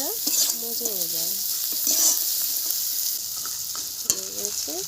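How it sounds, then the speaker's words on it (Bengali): Finely chopped onions sizzle steadily as they fry in a pan for a Bengali crab curry, with a constant close crackle and occasional stirring clatter; faint tonal sounds drift in the background. "পেঁয়াজটা একদম ছোট্ট ছোট্ট করে কেটে নিয়েছি আমি, যাতে খুব তাড়াতাড়ি ভাজাও হয়ে যায়"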